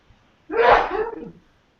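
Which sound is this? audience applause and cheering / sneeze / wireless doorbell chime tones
sneeze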